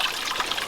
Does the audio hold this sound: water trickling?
yes